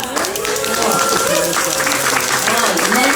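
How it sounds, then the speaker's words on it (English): Audience at a literary jamboree in Denver bursts into sustained applause mixed with cheers and voices, a dense, loud crowd noise throughout. "Give yourself a round of applause."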